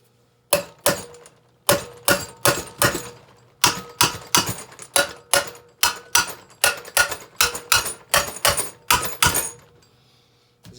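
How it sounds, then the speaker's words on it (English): Repeated sharp metallic taps from a hammer striking valve springs on a Chevrolet LS 5.3 engine, in quick groups with brief pauses, close and fairly loud. "You can also hit them with a hammer."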